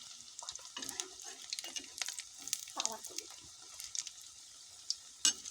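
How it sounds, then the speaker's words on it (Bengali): Pieces of food frying in a pan and being turned as they brown, with a steady hiss of oil and scattered scraping and clattering from the utensil, fairly close and moderately loud throughout. "এই তো এভাবে আমি সবগুলো ভেজে নেব।"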